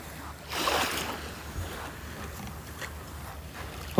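Calm sea waves on a beach in Terengganu, Malaysia, wash in and break softly, a surge of surf followed by gentle swishing water and a low background rush.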